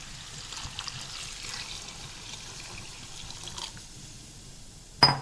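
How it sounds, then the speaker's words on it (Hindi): Water poured from a glass into a pot of red lentils with turmeric and chilli, a soft continuous trickle and splash, fairly faint, ending with a sharp clink. "अब मैं इसके अंदर शामिल करूंगी तकरीबन 2 गिलास के करीब पानी।"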